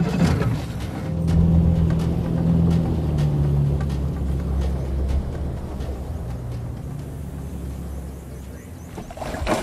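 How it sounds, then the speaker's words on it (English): Low engine drone of a fishing motorboat idling and moving slowly into position, rumbling steadily close by with water and hull noise, easing off toward the end. "the men move the boat into position"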